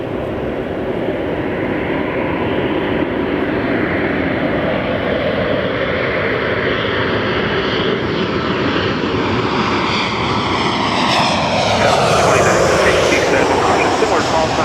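A Southwest Boeing 737-800 arriving from Oakland comes in to land in calm wind at Los Angeles International Airport. Its jet roar holds steady and loud, swells toward the end, and has a shifting whine on top.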